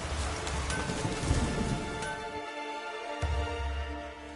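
Steady rain falls in a Witcher 3 video game scene, a dense continuous hiss with a few faint louder thuds, with a game soundtrack beneath it.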